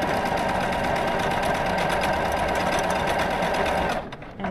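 A Baby Lock Allegro sewing machine stitches at full speed with a continuous, fast, buzzing whir that holds steady and close, then stops abruptly near the end, leaving a brief quiet; no one speaks.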